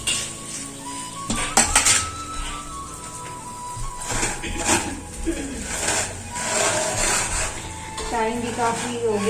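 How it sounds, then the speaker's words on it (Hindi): Gond laddu mixture with walnuts and ghee stirred in a pan: repeated metallic clanks and scrapes of a spoon against the pan over a light sizzle, close and moderately loud, with a clatter near the start. "इसमें अखरोट डालने हैं और इसको मिलाना है"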